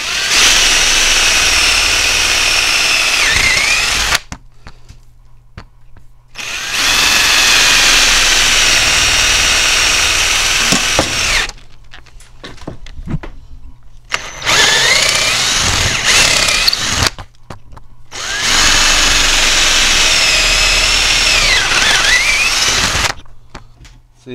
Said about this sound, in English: carefully drill a couple holes.